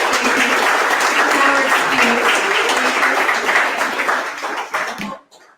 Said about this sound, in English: let's give another round of applause to our panelists